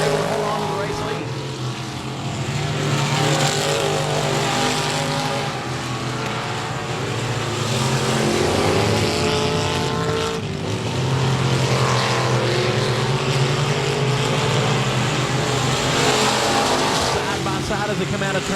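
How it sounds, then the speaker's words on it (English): Race cars in a heat race at 67 Speedway of Texarkana keep up a loud, continuous engine roar that swells and fades slightly as the pack passes through the turns and across the line. "Side as they come out of turn 4, but James Thompson with the edge as they come across the line."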